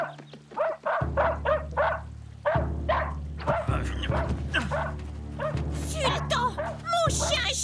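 A cartoon dog named Sultan barks in a rapid series of yips and woofs, heard over a low musical backing with voices speaking in between.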